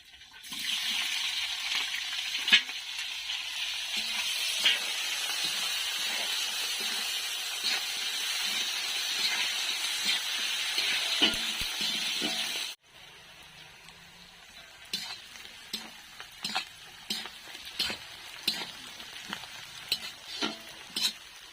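Bay leaves, whole cumin and onion hit hot oil in a kadai with a loud, close sizzle that suddenly drops to a quieter crackle, broken by scraping stirs.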